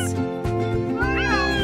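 A cat gives a couple of clear, close meows with rising and falling pitch, loud and alone without other sounds.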